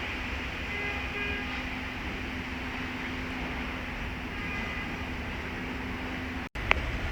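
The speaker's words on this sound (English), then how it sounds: "that's the Avanti West Coast service from Birmingham New Street to London Euston, being worked by a Class 390 Pendolino" An Avanti West Coast Class 390 Pendolino on the Birmingham New Street to London Euston service runs past at Willesden Junction, a steady broadband rumble and rail hiss with a faint tonal whine, holding even throughout before a brief sharp click near the end.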